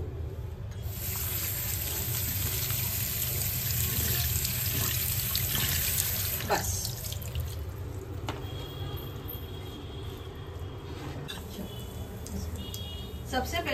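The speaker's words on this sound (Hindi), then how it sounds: "अभी हम लोग को इस पे डालना है ठंडा पानी और थोड़ा सा तेल इसके ऊपर ही" Cold water poured from a tap over boiled noodles for chicken Hakka noodles in a home kitchen, a steady close rushing splash that continues for most of the stretch, easing toward the end, with faint kitchen clatter.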